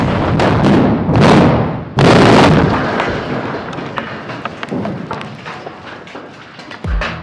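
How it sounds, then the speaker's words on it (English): Explosive charges blasting inside a tunnel dug for a pumped-storage plant, reduced near a retaining wall: two heavy booming blasts in quick succession, each followed by a long rumbling, crackling decay. "Nevertheless, the blasts are impressive."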